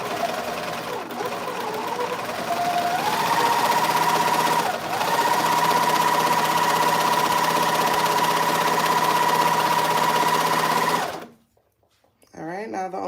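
A sewing machine stitches a high-waist bottoms outfit in one long, steady whirring run of about eleven seconds, with a brief hitch midway. It then cuts off, and a short voice follows.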